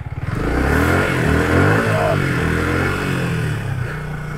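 A motorcycle stuck off-road, resting on its engine, revs loudly and steadily up close, with shouted voices over the engine throughout.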